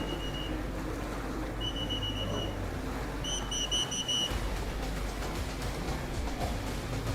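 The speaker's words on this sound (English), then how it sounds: "Oh, I hear whistles here." Several short, high whistle blasts sound at a pro-am stock jet ski championship race, thin repeated tones over a steady roar of engines and water, fairly distant.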